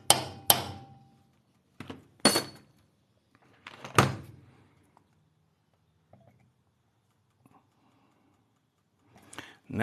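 Sharp hammer strikes during a crank seal repair on an Efco 165 chainsaw, arriving as a few loud, isolated metallic blows with quiet gaps between them and faint shuffling in the background.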